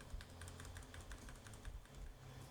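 Rapid, steady keystrokes on a computer keyboard during an overclocking session of an FX 9590 and Fury X cooled with liquid nitrogen, clicking in quick irregular bursts over a constant low hum.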